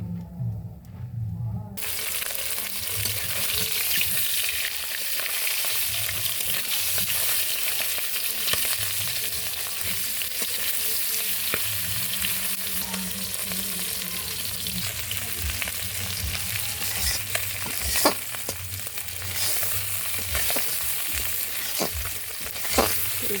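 Fish frying in a pan in a village kitchen, a steady dense sizzle running throughout with occasional clicks and scrapes of a utensil, close and fairly loud with no talking.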